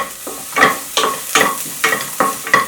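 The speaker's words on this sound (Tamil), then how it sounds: "நல்லா வதங்கிட்டு இருக்கும்போது இப்போ நம்ம வெங்காயத்தை சேர்த்துக்கலாம்" Onions and garlic fry in a pan for a soup while a spoon stirs them in steady rhythmic strokes, about six scrapes over a continuous loud, close sizzle.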